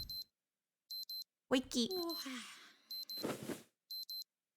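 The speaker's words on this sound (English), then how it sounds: "I wake up to the sound of my alarm." Alarm clock in a visual novel video game chirps in short bursts of rapid beeps that repeat at regular intervals, interrupted by a brief musical sting and a whooshing effect; a voice speaks briefly at the start.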